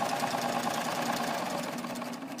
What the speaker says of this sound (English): Just going to do a regular 4-thread overlock. And notice I'm cutting a little piece of thread, or a little piece of fabric off with my blade.